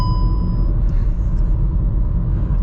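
Steady low road rumble and engine drone inside a 2022 VW Taigo Life small SUV with a 5-speed manual, cruising in its lane at a constant, loud level with no talking.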